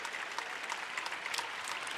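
Audience at a Pro Volleyball Federation match between Columbus Fury and Omaha Supernovas applauding as an injured player with a taped right ankle leaves the court, steady clapping from a crowd heard at a distance, faint and continuous.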